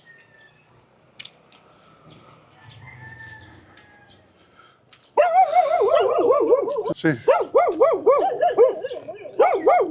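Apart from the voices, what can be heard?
dogs barking in cages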